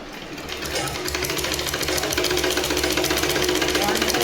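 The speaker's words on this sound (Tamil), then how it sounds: "ஒன் சைடு மடித்து அடிச்சிடலாம்." A sewing machine stitches along the folded edge of a skirt belt, a fast steady mechanical rattle that runs loud and close for the whole stretch, with no voice over it.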